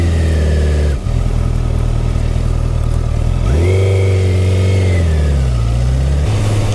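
A rented motorcycle rides through a fruit park in Japan, its engine loud and close, dropping briefly, then revving up and easing off as the bike accelerates and slows.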